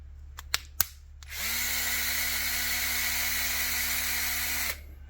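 A few sharp clicks, then a powered driver fitted with a 2.5mm Allen socket whirs steadily for about three seconds while backing screws out of the spur gear on a Traxxas Bigfoot 4x4 RC truck, close and clear before stopping abruptly.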